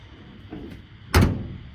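The door of a Ford F100 truck with new weather seals swings shut in one solid, loud slam after a faint earlier creak, then a short resonant tail.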